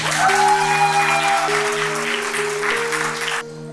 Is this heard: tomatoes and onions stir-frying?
no